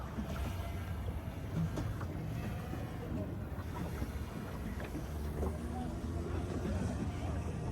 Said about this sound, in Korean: 패들로 지금 보트를 운전하고 있습니다.